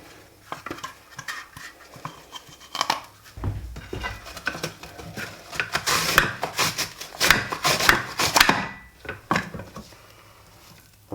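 An onion is sliced thin with a new kitchen slicing tool, producing bursts of quick, sharp clicking and scraping strokes that cluster in the middle, with quieter pauses before and after.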